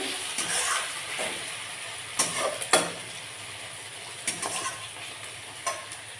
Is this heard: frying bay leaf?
yes